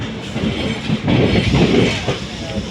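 A Mangalore-bound passenger train out of Karur rolls along with a steady rumbling roar and faint wheel clatter, loud and continuous with slight surges in the middle.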